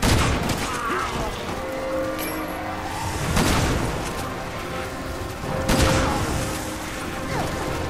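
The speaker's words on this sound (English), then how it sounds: "Shoot him with the shotgun" Shotgun blasts from Resident Evil 6 boom out in a few heavy bursts among dense game action and mechanical clatter, with loud, full-range blasts standing out above the busy backdrop.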